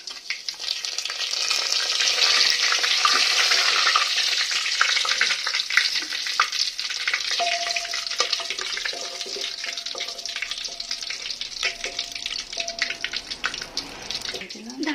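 Whole garam masala spices, cumin seeds and bay leaf sizzle steadily in hot oil for handi chicken, a loud continuous frying hiss close by with occasional stirring clatter, no talking.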